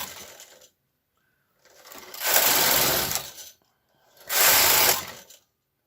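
A knitting machine carriage is pushed across a row of a men's garment front twice, giving two loud, steady mechanical whirring and rattling sweeps of about a second and a half each, separated by silence, close up with no talking.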